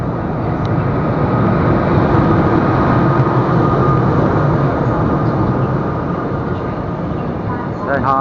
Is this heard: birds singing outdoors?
no